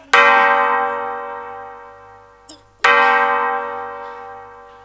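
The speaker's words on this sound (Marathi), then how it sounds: "फक्त घंटा वाजतायत." Two loud, close bell strikes about three seconds apart, each ringing out in a long, slowly fading metallic tone, with no talking over them.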